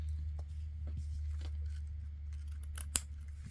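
Scissors snip through a folded book page to trim a paper pocket, a few soft irregular cuts close by over a low steady hum, with one sharper snap near the end.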